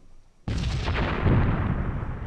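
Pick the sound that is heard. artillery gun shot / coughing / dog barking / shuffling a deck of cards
artillery gun shot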